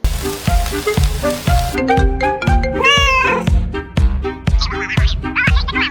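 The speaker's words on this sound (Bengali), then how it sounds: "এখন বিড়ালটা তার বন্ধুকে কল দিছে তার কাছে আসার জন্য" A cat meows loudly and repeatedly, calling out in a rhythmic run of drawn-out, insistent cries close by, with no speech.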